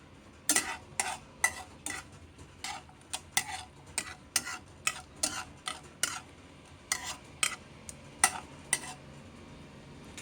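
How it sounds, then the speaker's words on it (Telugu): Cashew nuts frying in a pan, stirred with a utensil: a steady run of sharp scraping clicks about once a second over a soft background sizzle, close and clear, with no talking. "జీడిపప్పు వేసి వేయించాలి."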